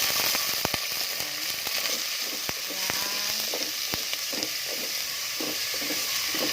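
Meat hits a pan already frying garlic and onion and sizzles loudly and steadily, with a few sharp clicks of stirring over the continuous hiss.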